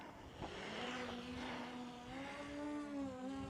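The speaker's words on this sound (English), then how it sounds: "So we take the drone off." A DJI Mini 3 Pro drone lifts off, its small propellers building into a steady high-pitched whine with rising tonal hum, fairly close and continuous throughout.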